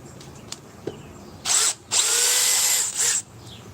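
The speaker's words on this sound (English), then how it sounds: "Unless I can move it with the other drill." A power drill whirs in three bursts, a short one, a long sustained run, then a brief final spin, with quiet taps before.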